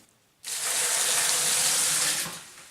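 Water gushes steadily from a tap for about two seconds, topping up a container of soaking paper or material for making fuel bricks, then cuts off, with no talk over it.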